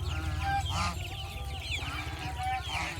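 Ducks on a small poultry farm honk harshly while feeding on fresh greens, with several close, overlapping calls in uneven bursts over a steady low background.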